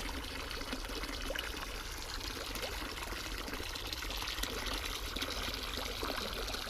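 Water pouring steadily while a farm water supply fills, a continuous rushing, splashing flow with no breaks, close and fairly loud, alone without talk.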